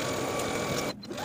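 A sewing machine runs steadily as it stitches the side seams of a Wren dress with a 3/8 inch seam allowance. The close, continuous whir stops briefly near the end and then resumes.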